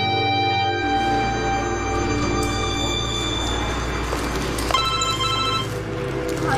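A telephone rings with a bright, repeating electronic tone in an indoor scene from a TV drama, heard close and clear over a low background hum.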